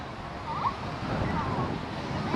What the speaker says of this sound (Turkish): Deniz burası.